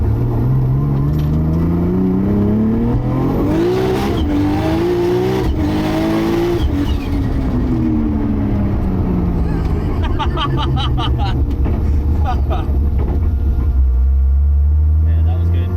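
A 1000hp widebody R33 Skyline GT-R with a sequential gearbox revs hard on the move, its engine note climbing and dropping through loud pulls with a tire squeal and people talking over it.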